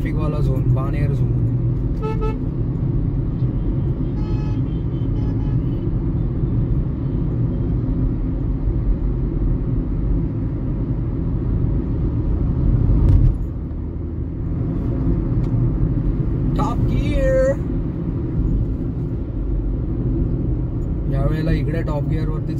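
Driving through Pune's Baner traffic, a car cabin carries a constant low road rumble while several horns toot nearby, in short bursts early on and again near the middle and end, with speech throughout.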